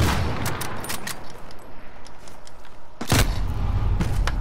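Uzi submachine gun fire in Call of Duty: Modern Warfare, a series of sharp rapid shots and bursts with a heavier thumping blast near the end, loud and close over a busy game background.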